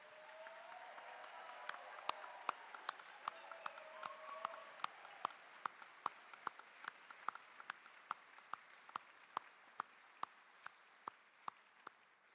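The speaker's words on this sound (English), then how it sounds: "let's give all these graduates a well-deserved round of applause" Sparse, spread-out clapping from an audience saluting graduates at an NYIT College of Osteopathic Medicine hooding ceremony at Arkansas State University, sharp individual claps repeating steadily over a soft crowd wash for about twelve seconds.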